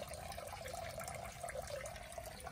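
Water in a tank of very green water cultured for Daphnia is stirred and swished by hand, a faint, steady sloshing and trickling with no voices.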